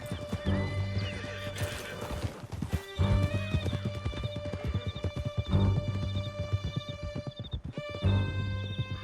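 Several horses gallop hard in Red Dead Redemption 2, with steady clip-clop hoofbeats, loud whinnies and neighs, and a sustained musical score running underneath throughout.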